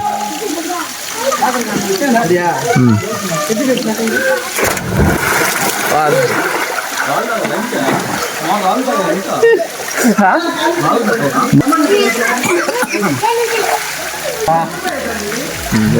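Water splashing and rushing at Penchalakona waterfall: a loud, steady wash of falling water runs throughout, with people talking over it.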